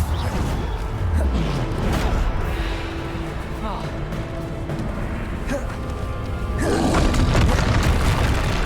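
Bombarda explosion spells in Hogwarts Legacy land as heavy booms amid swooshes and debris crashes, with a big blast swelling near the end over ongoing battle noise.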